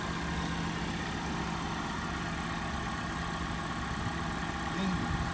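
A noisy engine idles in a new, zero-kilometre car at an auction, giving a steady, unbroken drone with a low hum throughout.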